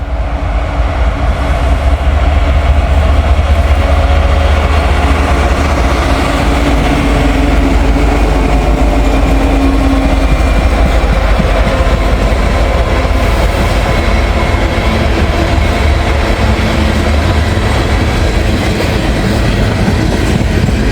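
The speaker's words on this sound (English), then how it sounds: "We got a Canadian National lead ethanol train, loaded ethanol train, coming down this way." A loaded Canadian National ethanol freight train rolls past close by on CSX track in Vandalia, Ohio, loud and continuous, with steady wheel rumble, rhythmic clatter over the rails and occasional faint squeals.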